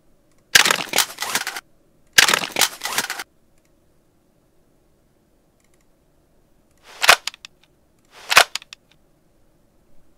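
Weapon reload sounds from the video game Fallout New Vegas: two sharp, rattling mechanical bursts about a second each, then after a pause two quicker metallic clicks, all close and alone.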